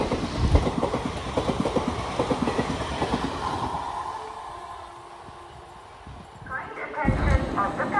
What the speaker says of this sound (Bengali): এটি হলো কাঠগোদাম থেকে হাওড়াগামী বাগ এক্সপ্রেস, আর সাথে রয়েছে হাওড়া শেডের WAP4 ক্লাস লোকোমোটিভ